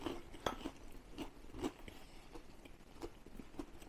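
Someone bites and chews an air-fried toasted cheese sandwich with a mayonnaise-coated outside: sharp crunches come at irregular intervals, close and fairly quiet, with no talking.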